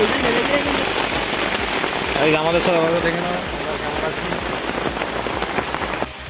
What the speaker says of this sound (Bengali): আমরা নৌকা চড়ছি আর এখানে বৃষ্টি হচ্ছে